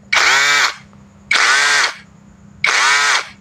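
MLHY 21V brushless cordless drill running in three short bursts of about half a second each, revving up to a high whine and stopping, loud and close with no talking.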